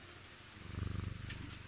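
A cat purrs softly in a video game, a short, close, rhythmic rumbling pulse that rises briefly and then fades, with no other sound around it.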